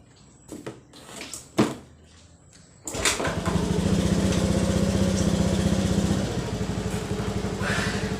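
A Honda Beat FI motorcycle with a freshly fitted spark plug and cap. After a few clunks and clicks it starts abruptly and settles into a steady, close, buzzing idle.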